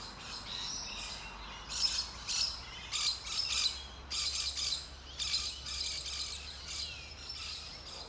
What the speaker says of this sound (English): slight buzzing sounds of insects